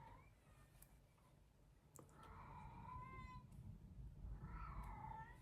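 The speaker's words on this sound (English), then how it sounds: "You may also hear my sister's cat in the background" A cat meows twice, drawn-out and wavering, with a few faint clicks in between against a quiet room.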